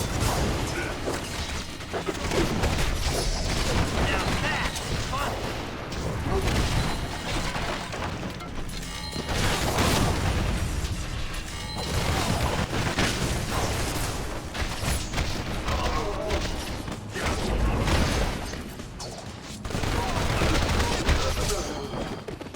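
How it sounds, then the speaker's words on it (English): Turrets firing in the Marvel Ultimate Alliance 2 video game, dense rolling bursts of automatic gunfire with crashes and blasts, rising and falling in waves for over twenty seconds, mixed with voices and game noise. "Turrets! Take them down before they cut us to shreds."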